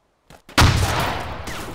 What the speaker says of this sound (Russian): Повсюду выстрелы, взрывы.